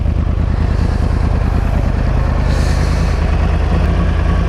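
Exhaust of a Yamaha YZF R1 1000cc superbike idling close by: a loud, steady, throbbing low rumble with even pulses, unbroken for the whole few seconds and without speech.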